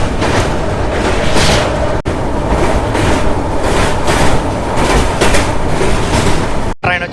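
The Jan Shatabdi Express from Chennai Central to Vijayawada pulls into Kavali station, a loud, continuous rolling roar of wheels and carriages up close, with brief rhythmic rattles and no voices.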